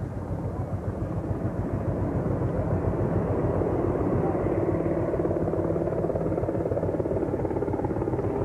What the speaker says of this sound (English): Eight aircraft in all in today's flyover.